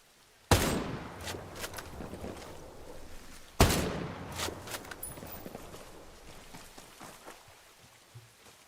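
Two loud, sharp rifle shots from an unsuppressed M700 in Breakpoint, spaced about three seconds apart, each followed by a rolling echo tail and faint background clatter.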